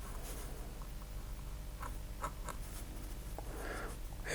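A pen inks a sketch of a Tyrannosaurus rex on paper, giving soft, close scratchy strokes in quick bursts over a steady low hum, with no talking.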